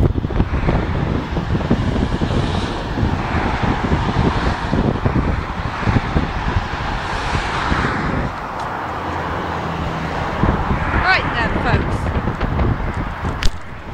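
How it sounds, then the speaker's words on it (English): Steady wind rumble batters the microphone at Kingston Seymour, England, mixed with passing car traffic noise, for a long continuous stretch. "It's very windy."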